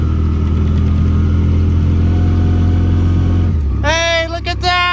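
A Cub LoBoy tractor engine idles loudly with a low, steady rumble, then shifts pitch near the end as a higher whine cuts in.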